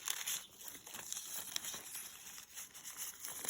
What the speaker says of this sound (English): I've just peeled away a little of the bark of the tree. Can you hear that? It's like paper.